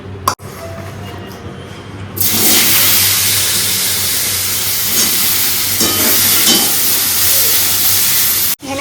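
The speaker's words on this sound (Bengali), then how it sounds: "তেল গরম হয়ে গেছে আগে পটলটাকে খুব ভালো করে ভাজবো" After a quieter start, a loud hissing sizzle of pointed gourd frying in hot oil bursts in and carries on steadily and close.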